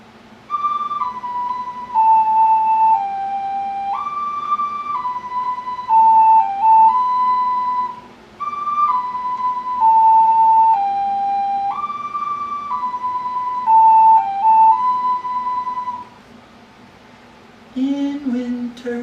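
Pentatonic flute playing a gentle melody, clear sustained notes stepping up and down in two repeated phrases with brief pauses, solo and close.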